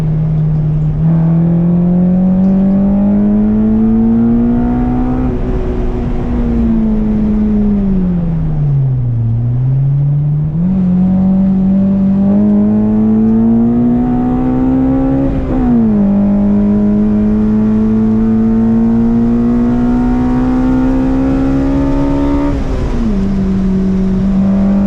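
Honda-powered VW GTI race car engine on a racing circuit, loud and close from inside, droning and climbing in pitch through the gears with sharp drops at each shift, alone without talk.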